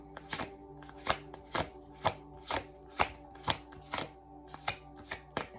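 Oracle cards being shuffled by hand, a steady run of about a dozen crisp riffling slaps at an even rhythm, close and clear with no talking.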